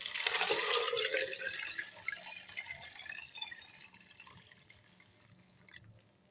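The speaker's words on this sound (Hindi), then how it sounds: "ये गुड़ को ऐड करने के बाद अब आपने इसके अंदर पानी ऐड करना है।" Water pours into a juicer jug holding jaggery, a bright splashing gush at first that settles into a softer trickle and fades, close and alone.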